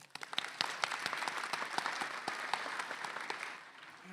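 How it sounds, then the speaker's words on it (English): Graduates applauding at the Tippie College of Business commencement in December 2015, a crowd's sustained clapping with distinct sharp claps near the microphone, fading slightly at the end. "Give yourself a round of applause."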